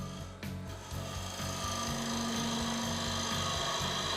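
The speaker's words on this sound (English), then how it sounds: "For scraping and shear scraping the inside of a bowl and similar projects, use any part of the curve." A teardrop cutter scrapes wood on a spinning lathe with a steady, raspy rubbing drone and a faint rhythmic pulse from the rotation, close and continuous, with no speech.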